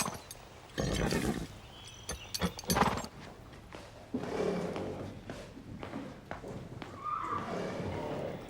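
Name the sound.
horse neighing and hooves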